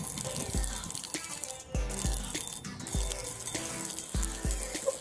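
Water runs from an outdoor shower column on a Baltic beach promenade on Usedom, a faint, steady splashing with soft repeated thuds close by.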